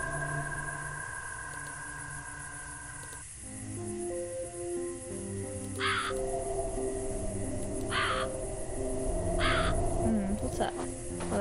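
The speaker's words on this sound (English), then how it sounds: "What's that? Oh, that's just a bird." Several crow caws from the Fran Bow video game ring out as separate, evenly spaced calls. They sit over sustained game music, with a harsher buzzing tone near the end.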